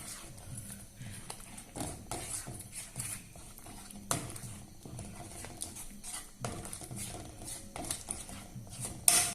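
Masala for a kadai mushroom curry stirred and sautéed in a kadai pan, a spatula scraping and tapping the metal in an uneven, steady rhythm with soft sizzling underneath, close up and fairly quiet.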